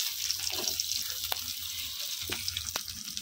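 Garlic, onion and three slit green chilies frying in a pan, a steady soft sizzle with a few sharp spatter pops and stirring clinks, close by.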